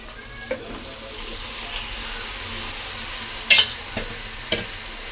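Chicken pieces sizzle softly in a pan with softened tomatoes for a curry. A steady low frying hiss runs throughout, with a few sharp clinks and stirring scrapes close by.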